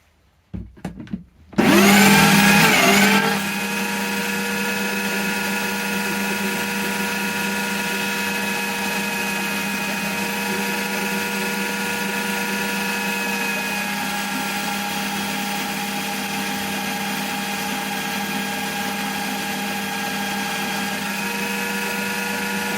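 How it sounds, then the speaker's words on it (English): A metal clamp is sanded with 40-grit sandpaper on a power tool. A few knocks come first, then a loud steady motor whine with a grinding edge runs on without pause. "See if I can just sand that off to allow me to get this clamp off."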